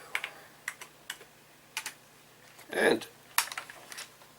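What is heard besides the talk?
typing LIST on an old home computer keyboard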